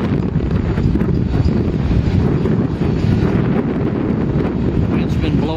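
Wind buffets the microphone trackside near Rosenberg, Texas, as a continuous loud low roar with gusty fluctuations, close and unbroken for the whole few seconds.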